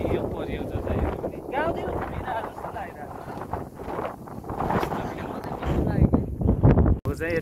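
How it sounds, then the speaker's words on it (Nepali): Strong wind blows outdoors in a countryside village in Romania, buffeting the microphone with a continuous rough roar and gusts, while a voice talks over it. "हावा चलिरहेछ"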